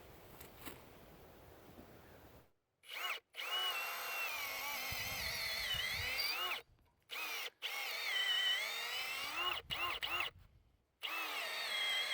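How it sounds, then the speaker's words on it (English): A power drill drilling a new hole in a goat gate whines in several bursts, starting and stopping repeatedly with short silent gaps, loud and close, with a steady high-pitched motor tone. "So I'm just gonna drill out a new hole"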